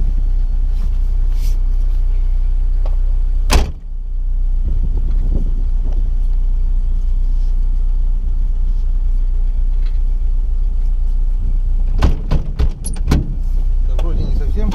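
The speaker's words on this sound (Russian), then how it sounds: "Машина рассыпается на ходу." Car rolling along a rough road, a steady loud low rumble of engine and tires with occasional knocks and rattles from the body, with people talking over it.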